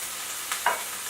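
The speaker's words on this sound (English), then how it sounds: "of the sea blight, and the spring onions. And we'll let that fry for about 2 minutes." Sea blight and chopped spring onions fry in a pan with a steady, bright sizzling hiss and a brief stir partway through.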